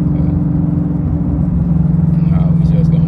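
Ford Mustang GT500 engine cruising, a steady low rumbling drone with a harmonic hum, heard from inside the car, loud and continuous throughout.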